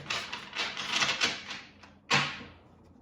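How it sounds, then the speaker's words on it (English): Tarot cards riffle and flutter in quick bursts, ending with a sharp snap as the deck is squared, close up with no talking. "I need to shuffle again, and then we'll kind of bring this all together."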